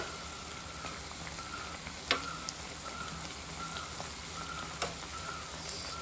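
Onion bhaji (kanda bhaji) frying in hot oil, a steady close sizzle with faint crackles and a couple of sharper pops.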